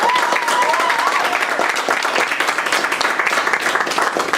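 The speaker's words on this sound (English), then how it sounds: "let's give a round of applause for that" Audience applause at a college success center's one-year anniversary celebration, a dense steady patter of many hands clapping throughout, fairly close and loud, with a faint tonal whistle or voice early on.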